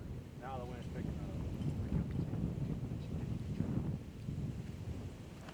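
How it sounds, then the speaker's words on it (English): Strong wind roars and buffets steadily across an outdoor disc golf course during a tournament round, broadband rumble persisting throughout with a voice talking over it. "You can hear the wind ripping,"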